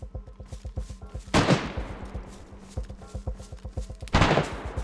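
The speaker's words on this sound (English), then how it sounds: "Oh, see where the shots are coming from" Rapid rhythmic gunfire in the survival shooter DayZ rattles steadily throughout, broken by two louder, nearer blasts with booming tails.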